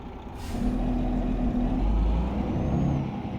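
A DAF truck engine running in Euro Truck Simulator 2 holds a steady, loud low rumble throughout, with a short burst of air brake hiss near the start and no voices.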